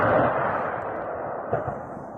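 A truck explodes in war footage, heard as a deep, sustained rumbling boom with a couple of fainter thuds trailing off. The sound is distant and muffled.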